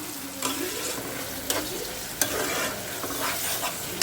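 Curry with mustard paste being stirred in a pan, a continuous sizzle punctuated by repeated scraping strokes of a spoon about once a second, close and moderately loud.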